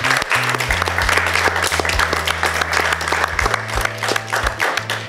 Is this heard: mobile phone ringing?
no